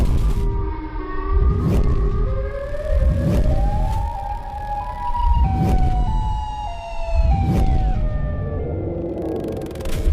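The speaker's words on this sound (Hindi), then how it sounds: "सायरन की तेज आवाज से गुप्ता जी और मिश्रा जी बहुत परेशान हो जाता है" The Siren Head cartoon monster lets out a loud, wailing siren, rising and falling tones that repeat over several cycles with deep rumbling pulses beneath, up close and alone.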